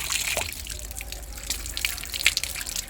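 Bath powder being rinsed off with water: close splashing, trickling and dripping with irregular small splashes and no voices.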